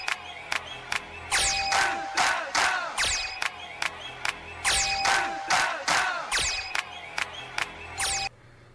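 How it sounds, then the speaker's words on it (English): A crowd cheers in the video game Space Channel 5, loud repeated bursts of shouting and chanting in a rhythmic pattern, with sharp clap-like accents between swells. "She hears everyone cheering her name, encouraging her to keep going."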